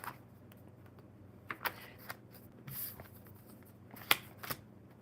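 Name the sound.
shuffling tarot cards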